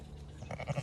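Sheep on a farm bleat in a short run of quiet calls near the end, while the flock waits to be fed with a rattling sound they mistake for the feed bucket.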